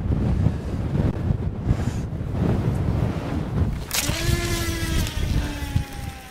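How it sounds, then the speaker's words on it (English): Strong coastal wind on the South Wales shore buffets and roars loudly across the microphone, with gusty rumble throughout and a sharper whistling blast near the end. "Probably gives you an indication how windy it is."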